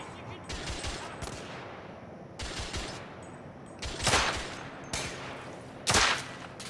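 Gunfire from a third-person shooter set in an alternate Victorian London, The Order: 1886: several loud, sharp shots and short bursts with pauses between them over a steady low background, with no talk.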